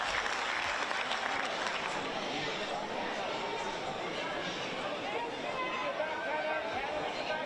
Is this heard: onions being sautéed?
no